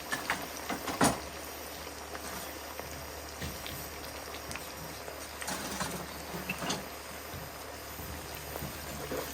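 Fries deep frying in hot oil around 320 to 350 degrees on a camp burner, a soft, continuous bubbling crackle with scattered sharper pops, fairly quiet and with no talk.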